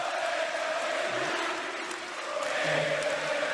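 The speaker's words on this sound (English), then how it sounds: "The crowd is very live, very into the game." An arena crowd at a 2011 AmeriCup basketball semi-final in Argentina, a steady, loud roar of many voices that swells slightly toward the end, with scattered applause and no clear single speaker.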